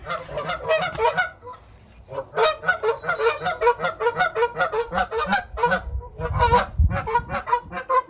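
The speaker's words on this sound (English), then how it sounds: "Sorry about the geese." A flock of geese honks loudly and repeatedly, overlapping calls in quick bursts with a brief lull near the start, close by and dominating the scene.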